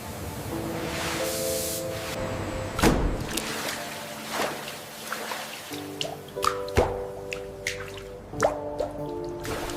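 Muddy banana stems straight from the farm are washed with water in a factory, giving irregular wet drips, plops and squishes. A low mechanical hum runs steadily underneath.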